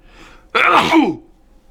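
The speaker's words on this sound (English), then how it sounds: "That may not be the only sneeze." A single loud, close sneeze bursts out after a quiet inhale, sharp at the start and then trailing off into silence.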